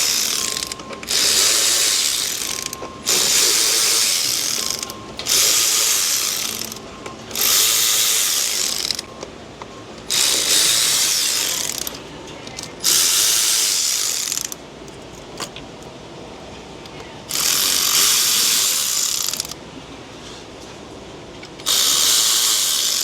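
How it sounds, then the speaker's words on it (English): An 8mm ratchet clicks rapidly and loudly in repeated bursts, threading bolts into a Chrysler 3.6 engine, with brief pauses between runs and no talking. "Let's get these bolts threaded up,"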